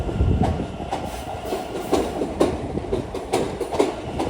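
A Long Island Rail Road train rolls through Jamaica station during the evening rush, wheels clacking in a steady rhythm with a continuous low rumble, close and fairly loud.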